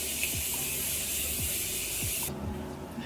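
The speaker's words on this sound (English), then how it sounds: "So now I'm going to set my face and use my Morphe continuous setting mist." Morphe Continuous Setting Mist sprayed onto a face during a makeup routine, a steady close airy hiss that runs for about two seconds and then cuts off into quiet room tone.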